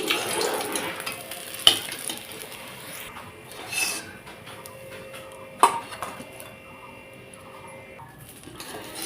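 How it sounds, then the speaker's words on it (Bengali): Fish fillets frying in oil in a pan crackle softly as they are flipped, with a low, quiet sizzle broken by a couple of sharp clicks of the utensil. "একটা পাশ সুন্দর লাল হয়েছে এই পাশটাকে উল্টে দিচ্ছি এই পাশটাও সুন্দর লাল হয়ে গেলে নামিয়ে নেবো"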